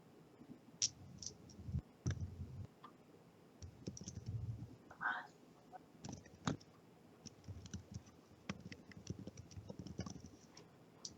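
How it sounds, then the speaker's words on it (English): Keyboard typing rattles in quick irregular bursts of clicks throughout, with a brief faint voice and some low background rumble. "Someone's typing a bunch, but no one's saying anything."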